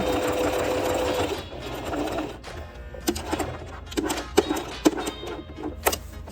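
A Singer sewing machine stitches a buttonhole without a buttonhole foot, starting with a steady mechanical whirr, then breaking into short bursts of stitches with clicks and pauses between.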